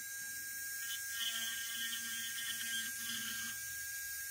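A high-pitched Dremel rotary tool whines steadily, its pitch dipping briefly as the drill bit bites into wood during carving, with no voices.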